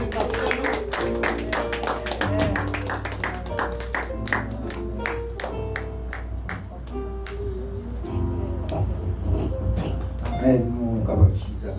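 A congregation in church applauding during a worship service, the claps landing in a steady rhythm under voices and singing, close and lively throughout.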